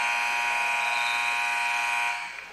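Loud, sustained electronic buzzer ending a women's college basketball game against AIC, a single steady harsh tone lasting about two seconds before fading.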